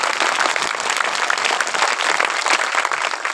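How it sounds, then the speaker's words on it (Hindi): A crowd claps loudly and continuously at a Christmas church meeting, dense sustained applause filling the room with no break. "जोर से ताली बजाओ परमेश्वर के लिए।"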